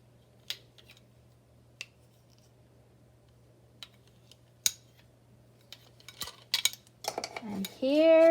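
Metal measuring teaspoons click and clink sharply a few times, sparse taps in a quiet room building to a cluster of rattling contacts, with a voice beginning to speak at the end.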